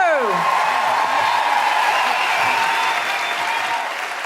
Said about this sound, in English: Big round of applause for Becca, Scarlett, Carys and Sindhu.